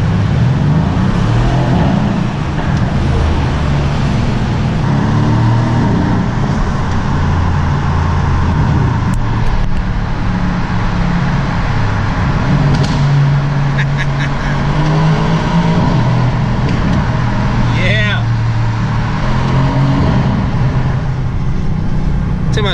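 A Mercedes-AMG C63s drives through city traffic in Pittsburgh. A constant low engine rumble fills the cabin throughout, with brief brighter, honk-like sounds breaking through now and then.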